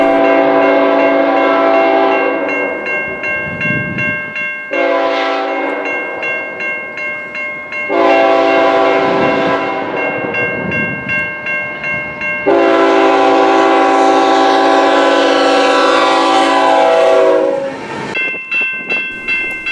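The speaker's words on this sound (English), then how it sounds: "we have a beautiful K5HLL from a CN train. Only led by one locomotive." CN freight train led by a single locomotive passing near Mount Albert, its K5HLL horn blowing four long, loud blasts separated by brief gaps, with rumbling wheels and track noise underneath.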